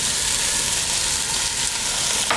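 Onions, celery, diced carrots and zucchini fry in a soup pot with a dense, even sizzle close by, a bright continuous crackle throughout and no talk.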